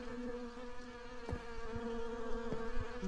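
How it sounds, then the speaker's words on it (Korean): Giant mosquitoes in the Ao Oni mansion video game give a steady, droning insect buzz with a whining tone. It holds through the whole clip at an even level, and a few soft thumps sound beneath it. "야, 저 모기들 진짜 엄청 무시무시한데요?"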